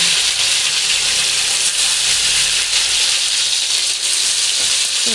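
Tomatoes hit hot oil already holding nigella seeds and green chillies for a spicy kajli fish curry, giving a loud, steady, close sizzle and hiss that runs unbroken throughout.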